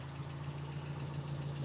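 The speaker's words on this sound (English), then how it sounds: "It's starting to build just a little bit of heat. Idling about 800 or so that's looking pretty good." A car engine idles steadily at about 800 rpm after running a while and starting to warm up, giving a low, even hum with a faint rhythmic throb.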